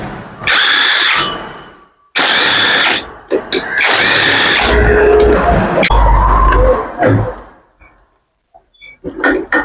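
A power tool whirs in several loud bursts while removing bolts from a Yamaha FZ motorcycle engine, separated by short pauses, with someone speaking between the bursts.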